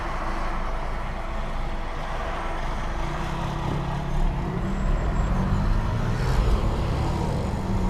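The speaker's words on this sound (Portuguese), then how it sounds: "mesmo esse carro não tendo um motor muito forte, é um motor um pouco mais forte que o do Civic" A BMW 320i runs on the road with its engine audible from inside the cabin, a low steady rumble mixed with road noise that grows slightly louder in the second half.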